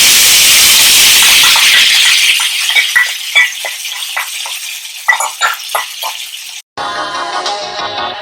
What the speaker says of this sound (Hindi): उसके बाद हम यहाँ पे डालेंगे अपने प्याज और बाकी चीजों का पेस्ट।